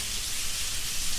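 Constant rainfall hisses evenly nearby, a smooth sheet of drops with slight swells in loudness and nobody talking.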